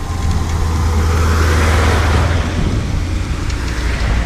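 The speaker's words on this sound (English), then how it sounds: "Here comes the Bomberos, the fire truck." A fire truck passes on a road, its engine rumbling steadily over continuous traffic noise, loud and close throughout with no siren standing out.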